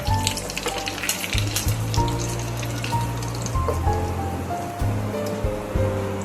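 Mustard seeds, cumin and curry leaves sizzle and crackle in hot oil, a steady frying hiss with sharp popping bursts of seeds, up close and continuous.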